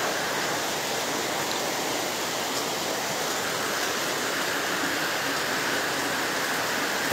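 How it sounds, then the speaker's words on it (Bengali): Heavy rain pours steadily in Hailakandi, Assam, a dense, loud, unbroken hiss of water on surfaces that fills the whole stretch with no voices over it. "আজকে বৃষ্টিটা খুব বেশি বৃষ্টি"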